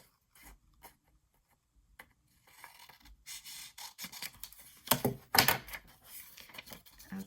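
Scrap paper is cut for a craft with scissors, heard as a series of close, crisp snips and paper rustles, building to a couple of louder scraping cuts near the end, with no talking.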